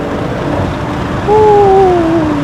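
A tuned Stage 2+ BMW M340i G20 accelerates at 58% throttle on a mountain road, its engine note rising in a smooth, loud climb over steady road and wind roar.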